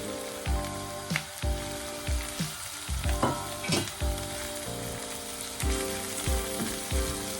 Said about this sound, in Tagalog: Ngayon, ilagay na po natin yung ating sliced mushrooms.